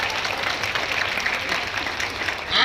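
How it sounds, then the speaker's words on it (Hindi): A crowd claps steadily at a seminar, a dense even wash of applause that holds its level throughout and swells slightly at the very end. "एक ताली तो बनता है यार"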